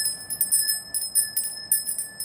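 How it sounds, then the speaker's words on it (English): A small bell rung in a Christian witch church service, giving bright, steady high ringing tones with a run of quick jingling strikes, fairly quiet, with no talking. "let us ring the bell"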